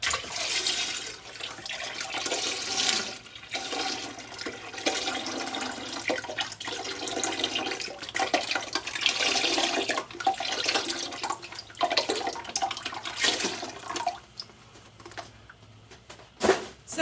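Beef broth pours into a pot for a fresh garden soup, a steady splashing, gurgling stream that runs for several seconds, wavers in strength and tapers off near the end.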